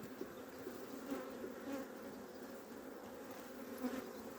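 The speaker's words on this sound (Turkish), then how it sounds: "Arı biraz agresif." Honeybees buzz steadily at an open hive that has lost its queen and is acting somewhat aggressive, a dense close drone with a few louder passes near the listener and no talk.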